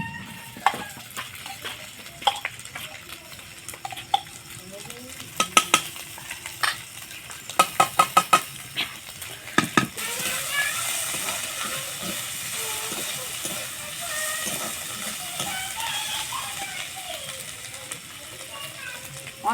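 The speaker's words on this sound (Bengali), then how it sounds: "পেঁয়াজ হালকা করে ভেজে নিয়েছি, এবার থেতো করা আদা রসুন দিয়ে দিব" Onion frying in a pan as crushed ginger, garlic and chili go in, a close, steady sizzle and hiss with a spoon clattering and scraping through it, the sizzle swelling louder partway through; a voice speaks over the cooking.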